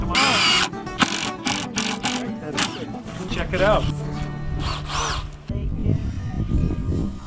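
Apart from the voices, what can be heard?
power drill driving into wood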